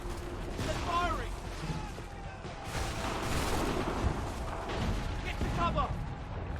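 Gunfire and booming blasts from enemies in Assassin's Creed 3, a dense, loud barrage of shots and thuds mixed with shouted in-game voices calling for cover.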